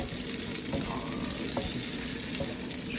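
Beef noodle ingredients stir-fried in a hot wok at home, a steady close sizzle with faint scrapes and clinks of stirring throughout.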